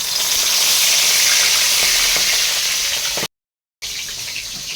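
Amudi fish wrapped in mango leaves fry in hot oil, giving a loud, dense sizzle that holds steady and then cuts off abruptly, returning after a brief gap.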